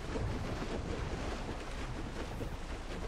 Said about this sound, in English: The water! It's so loud!